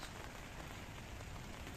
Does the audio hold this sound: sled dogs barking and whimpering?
no